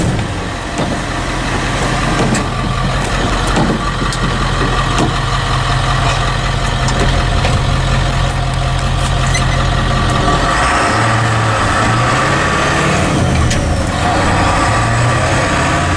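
A 1976 Ford F600 truck with a swapped 7.3 Powerstroke diesel, on a 150 horsepower tune, idles with a steady, loud diesel clatter and rumble, then its pitch shifts briefly near the end.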